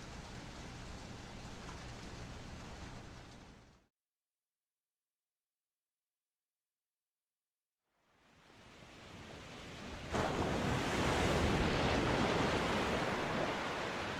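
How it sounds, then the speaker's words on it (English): Ocean waves in The Flower Collectors wash as a broad hissing surf, cutting to silence midway before swelling back in and growing louder and closer, with no voices. "Jorge, the waves"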